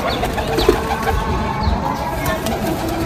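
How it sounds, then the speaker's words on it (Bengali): A restless Golden Kamagar pigeon held in a small cage gives soft, low coos amid shuffling and background noise, fairly close and continuous over a few seconds. "দেখাতে পারছি না, খেলা খুব ছটপটে পায়রা"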